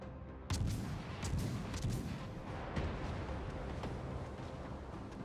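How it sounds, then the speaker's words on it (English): Naval guns fire in World of Warships: Legends, several sharp booming shots in an irregular cluster over a rumbling battle background, moderately loud. "They're doing some speculative shots."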